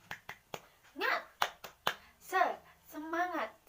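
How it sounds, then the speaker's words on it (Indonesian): A primary school class claps a short rhythmic pattern, several sharp claps in sequence alternating with children chanting together in unison, close and clear in a quiet classroom. "Yuk, tepuk semangat."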